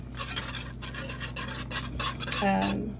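Pork chops going back into gravy in a pan, with close metallic scraping and clinking of a utensil against the pan and a wet stirring sizzle, no talking.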